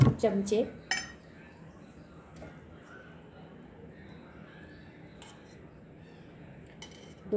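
A metal spoon stirs dhirde batter in a pan, opening with a few close clinks and scrapes against the pan, then settling into a soft, low, continuous stirring rustle.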